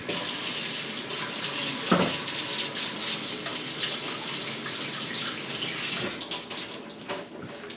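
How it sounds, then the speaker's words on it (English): Tap water runs steadily into a kitchen sink while hands are washed, a continuous close splashing stream with small shifts in flow. "I just wash my hand."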